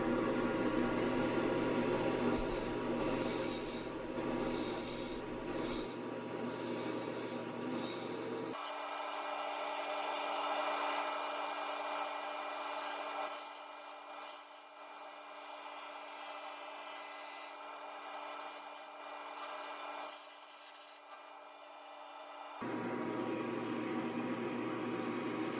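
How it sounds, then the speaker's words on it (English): Carbide-tipped negative rake Easy Wood tools cutting a spinning log on a lathe while it is turned into a vase, giving a steady scraping, rubbing hiss that carries on throughout with shifting intensity. "All the Easy Wood tools that I'm using here are all the negative rake tipped ones."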